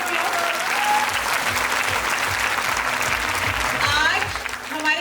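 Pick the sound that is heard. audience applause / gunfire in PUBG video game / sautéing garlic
audience applause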